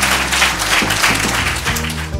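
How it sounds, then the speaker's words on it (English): An audience claps in a steady, dense round of applause at an International Children's Day celebration held with Oasis Asset Management on Mandela Day, over a loud low hum that runs throughout. "you need to give them a round of applause for that"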